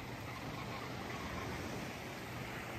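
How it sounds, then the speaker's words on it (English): A steady, faint wash of ocean surf in the distance at Huatulco, an even broadband hiss with no distinct breaks and no voices. "I hear the ocean."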